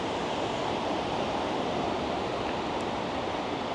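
Ocean waves wash onto a beach in Bali as a continuous, broad, rushing roar of surf, steady and fairly soft throughout, with no voices.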